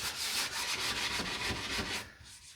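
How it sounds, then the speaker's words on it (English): A detail sander working over a bathroom vanity, producing a steady close abrasive whir and scrub that holds for about two seconds before easing off. "Now there's a couple places that I want to use the detail sander, and we're going to do that right now."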